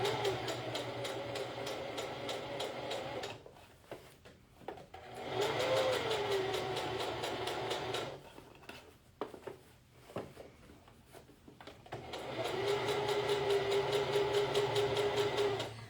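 A sewing machine topstitching a garment, running at high stitch speed in two long, steady whirring bursts separated by a quieter pause with small clicks and handling sounds.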